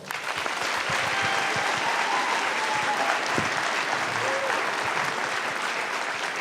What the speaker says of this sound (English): let's have a big round of applause for Mark Wara.